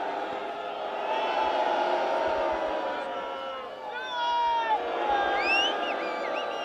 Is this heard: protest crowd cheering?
yes